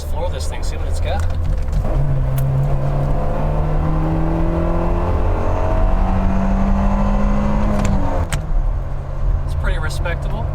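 A Fiat 500 with 101 horsepower accelerating at full throttle, its engine note rising steadily from inside the cabin in a long continuous pull, with a shift partway through.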